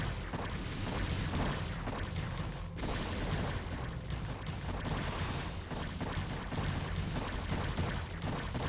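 StarCraft gameplay erupts in dense, continuous gunfire and explosions, a loud unbroken barrage of blasts and shots with no pauses.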